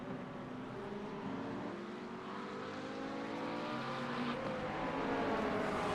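A Porsche GT3 race car engine drones at a distance during an endurance race at Spa, a steady mid-level roar whose pitch climbs gradually as the car accelerates, with no one speaking.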